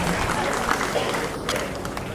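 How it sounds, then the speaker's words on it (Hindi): Applause rings out for a student being called to the stage at a school award ceremony honouring top board-exam scorers. The clapping is steady, dense and crowd-wide, lasting the whole moment without a clear break. "जोरदार तालियां इस बच्ची के लिए"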